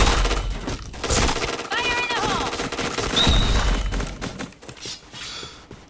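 Bursts of rapid gunfire from a shooter video game, the game Point Blank, rattle loudly throughout with several dense volleys, mixed with game effects and voices talking over the action.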